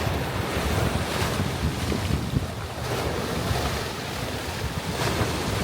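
Ocean waves crash steadily onto a windy shoreline along a coastal waterfront, a dense continuous roar of surf mixed with gusting wind buffeting the microphone, no voices.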